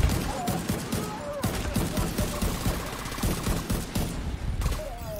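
Rapid turret gunfire from The Division 2, a sustained run of loud sharp bursts broken by a short pause, with voices talking over the shooting.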